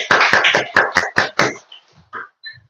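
A church congregation gives a short patter of hand claps, several sharp claps in quick succession that fade out within a couple of seconds, followed by faint scattered sounds.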